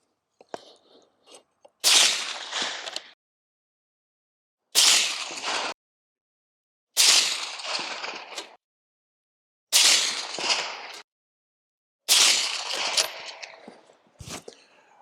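Five loud suppressed .308 rifle shots from a 16-inch barrel fitted with a Dead Air Nomad 30Ti titanium suppressor, each a sharp blast trailing off over about a second, spaced roughly every two to three seconds outdoors.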